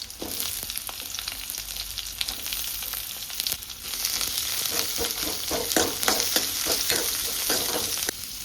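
Mustard seeds, mashed garlic, green chili and onion frying in a pan, a soft steady sizzle with crackles and repeated scraping stirs that grow busier toward the end, without speech.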